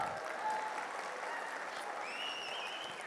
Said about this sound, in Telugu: ఒక్కసారి ఆయన గట్టిగా చప్పట్లు కొడదామా?